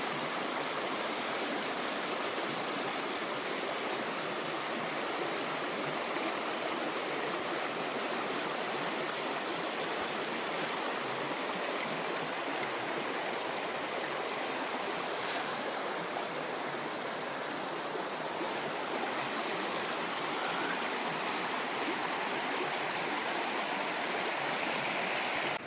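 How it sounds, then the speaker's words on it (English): Clear stream water flows in the wilderness, a steady, soft broadband rushing that stays even throughout, heard alone with no talking. "The sound of that water is just so soothing to the ears."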